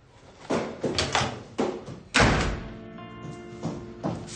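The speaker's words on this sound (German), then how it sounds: "Tür zu." A door is shut with a single heavy thud that stands out from several softer knocks and bumps around it, with faint tonal sounds lingering afterward.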